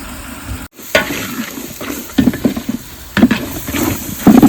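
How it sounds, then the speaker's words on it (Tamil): Dindigul chicken biryani masala is stirred in a pan, with repeated scraping spoon strokes in irregular bursts over a constant low sizzle, close and fairly loud, with no speech. "இதுக்கப்புறம் இதை நல்லா கிளறி விட்டுக்கலாம் மசாலா கூட வந்து நல்லா வாங்குற அளவுக்கு"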